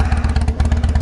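A Harley-style motorcycle exhaust note, heard close and loud as a rapid, regular lumpy thumping of pulses with a rough, clattery edge, alone with no voices.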